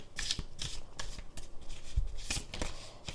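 Osho tarot cards are shuffled and handled near the mic in quick crisp riffles and slides, several rustling bursts over a few seconds with no talking.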